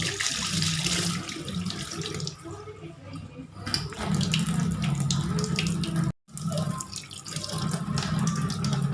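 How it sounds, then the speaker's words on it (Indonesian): Tap water runs into a sink while someone washes their face at a barbershop, a steady close splashing stream that briefly cuts out, then resumes. "Nah, cuci muka di sini guys."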